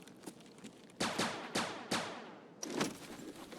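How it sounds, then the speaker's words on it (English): Rapid gunfire in the video game Escape from Tarkov: four or five sharp shots in quick succession, fairly close, with some quieter background noise between them and no talking. "That was some pretty quick shooting."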